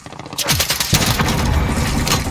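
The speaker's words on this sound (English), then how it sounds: "Grenade out! Grenade out!" A grenade is thrown and explodes in a video game: a loud booming blast that rolls into dense, sustained crackling roar like gunfire, close and loud.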